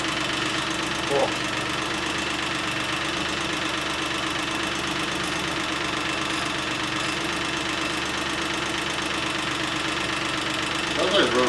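A Geo car engine idles steadily with a rapid, even ticking from the lifters over a low hum, close and continuous, with a brief voice or knock near the end.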